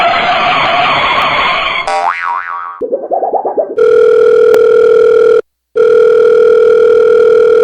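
Telephone tones from a radio comedy break, starting with a warbling ring and a bouncing boing-like effect, then a steady loud dial tone that drops out briefly and resumes, alone with no talk.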